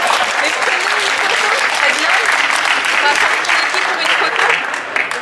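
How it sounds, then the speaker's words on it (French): A crowd applauds at a Paris youth football tournament, steady dense clapping sustained loud and even throughout, with voices mixed into the clatter. "Pas beaucoup d'applaudissements"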